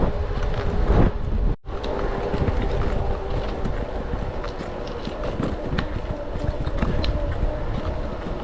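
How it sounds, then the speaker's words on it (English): Steady broadband wind rush buffets the microphone while an e-bike rolls along country lanes on a hot day, loud and continuous through the whole stretch with one brief dropout. "Wind's picked up a bit."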